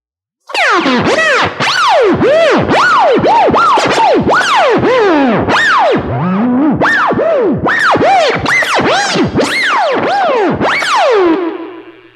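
Guitar notes swoop and bend through a heavy Line 6 Helix delay effect, pitches sliding up and down in warbling, psychedelic waves with no talking.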